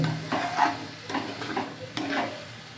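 A coconut sugar mixture is stirred in a pan, giving repeated close scraping strokes over a soft sizzle, with no talking.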